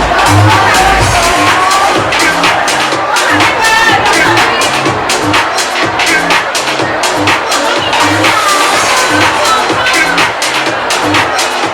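At a HERA pop-up store launch, a crowd cheers loudly in repeated bursts of shouts and whoops over a pulsing beat, with chatter and voices mixed throughout.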